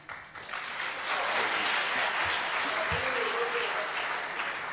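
Audience applause fills a debate hall, loud and sustained, a dense wash of clapping that swells after the first half-second and holds steady throughout.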